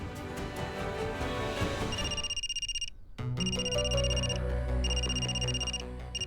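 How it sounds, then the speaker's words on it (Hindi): A phone ringtone for an incoming call plays as a repeating electronic melody with steady tonal pulses, briefly cutting out after a few seconds and then resuming, heard alone without talk. "आपका फोन आ रहा है"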